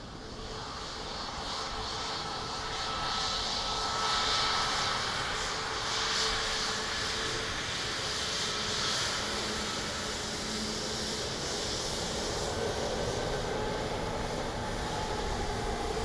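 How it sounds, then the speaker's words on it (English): Aer Lingus Airbus A330 arriving from San Francisco, a steady broad jet engine roar holding at a constant loud level throughout, swelling slightly early on and then sustained with no talk. "A330, Aer Lingus from San Francisco."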